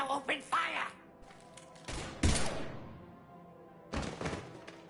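Gunfire in the video game Mass Effect 3 lands as a few heavy, separated thumping shots, one burst early and others near the middle and end, mixed with other game sounds.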